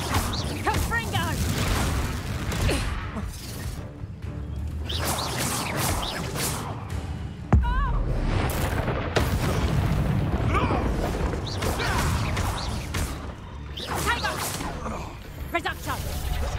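A Confringo blasting spell from Hogwarts Legacy bursts out amid dense game combat, with booms, whooshes and mechanical clatter in a loud, busy mix under a character's voice.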